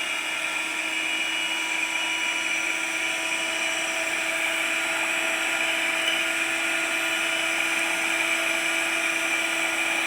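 An electric blender whirs at high speed, blending powdered milk and condensed milk for a rose milkshake, giving a steady, loud, even whine with no pauses.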